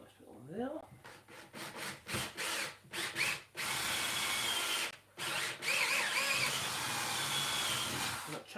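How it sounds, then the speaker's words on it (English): Power drill boring into wood while a rustic stair gate is built in a workshop, several bursts of whirring and grinding separated by short pauses, fairly loud and close. "I don't want to drill the way through"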